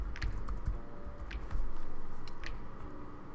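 Computer keyboard typing, with irregular clusters of clicking keystrokes close by over a low background hum and no talking.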